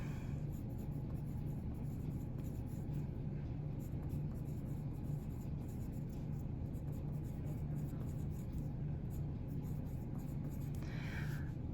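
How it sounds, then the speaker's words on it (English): Continuous scratching of pencil on paper during physics lab calculations, faint under a steady low background hum that persists throughout. "thank goodness I was writing in pencil there"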